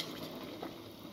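Soft stirring of spaghetti in a pot of salted water with olive oil, a faint wet swish over a steady bubbling hiss, brief and close.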